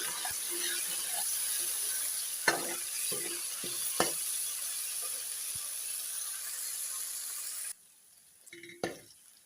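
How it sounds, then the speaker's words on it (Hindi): Garlic and ginger paste sizzles and fries steadily in a hot pan, with occasional stirring clinks, before the hiss suddenly drops away near the end. "अब हम इसमें लहसुन और अदरक का पेस्ट ऐड करेंगे। अब हम इसकी भुनाई करेंगे।"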